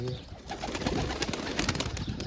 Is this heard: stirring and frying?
no